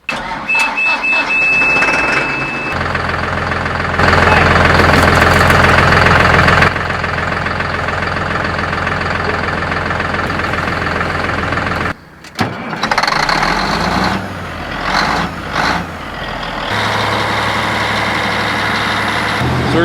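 Diesel engine of a Cat D8 bulldozer, an 80,000-pound tracked machine, running loud and close with a steady heavy rumble, a brief dip around midway, then resuming its constant drone.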